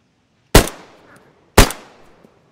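Two loud, sharp gunshots from a Colt 1911 pistol in DayZ Standalone, about a second apart, each a close crack followed by a decaying echo tail, with no talk over them.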